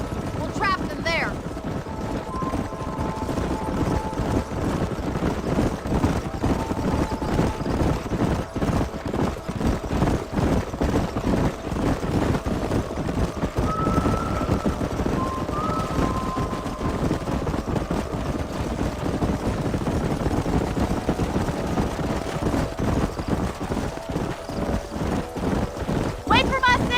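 Horses galloping in the Red Dead Redemption video game, driven up a canyon, give a continuous rapid clip-clop of many hooves with occasional whinnies and a low rumble, loud and close throughout.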